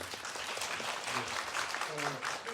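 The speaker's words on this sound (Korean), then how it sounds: "우리 한예리 배우님께도 다시 한번 박수 부탁드리겠습니다" Audience applause for actress Han Ye-ri at a cinema talk at Cinecube about Pina Bausch, a dense steady round of clapping filling the room, with faint voices underneath.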